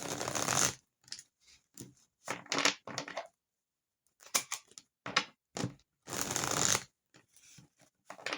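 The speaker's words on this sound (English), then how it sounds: "Two more shuffles and then we'll get into it." A deck of tarot cards being shuffled in a series of bursts of riffling and flicking, close and fairly loud, with short pauses between them.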